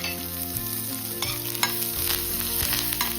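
Mustard seeds, cumin, urad dal, dried red chillies, green chillies and curry leaves sizzling in hot oil for a curd rice tempering, a steady close crackle with stirring scrapes and no voices.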